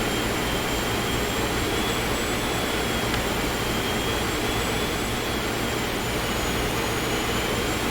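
A light aircraft engine at climb-out power drones steadily and loudly throughout in the X-Plane 11 flight simulator, a constant dense roar with a faint high whine and no pauses.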